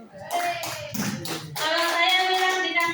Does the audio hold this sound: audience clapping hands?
yes